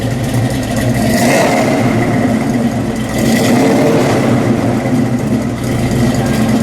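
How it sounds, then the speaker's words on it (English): A 1971 Buick GS Stage 1 455 cubic-inch V8 revs loud and throaty twice, swelling and falling back to a rumbling idle between blips, heard close up with no talking. "Dave, let's give it a rev."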